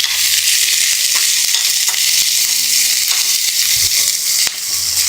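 Two medium chopped onions added to dried red chillies frying in hot oil, a loud dense sizzle running steadily with a few sharp ticks of stirring.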